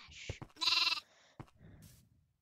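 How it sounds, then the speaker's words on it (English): A sheep bleats in a video game, a loud wavering cry in the middle with shorter bleat-like calls before and after, set against quiet game sounds and no talk. "The sheepy."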